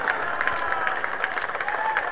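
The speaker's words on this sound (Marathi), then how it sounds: "एकदा जोरदार टाळ्या झाल्या पाहिजेत." Crowd applause at a cricket match, a soft, steady patter of clapping heard from a distance, with faint cheering mixed in.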